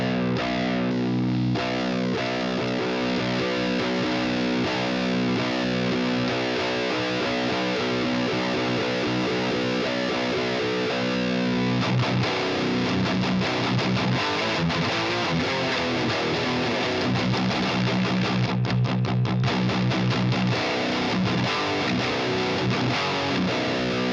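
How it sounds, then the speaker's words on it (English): Electric guitar played through a Boss OS-2 overdrive/distortion pedal, a loud, dense, continuous distorted tone with sustained chords and busier picked passages, heard alone. "And now let's see what the overdrive / distortion can do."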